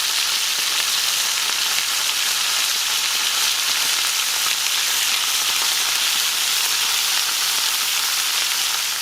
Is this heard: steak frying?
yes